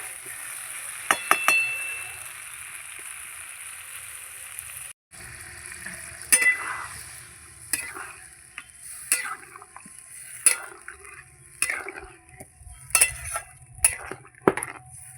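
Potatoes and spices frying in oil in a pan, gentle sizzle under repeated scraping stirs and sharp clinks of a metal spoon against the pan, in bursts with short pauses.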